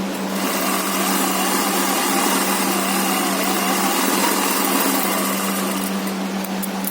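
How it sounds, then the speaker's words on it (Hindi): An electric sewing machine double-stitches fabric for a pocketed pant, a steady, close, continuous motor whir that runs without a break for about seven seconds with no talking. "इसको मैं डबल सिलाई करती हूँ।"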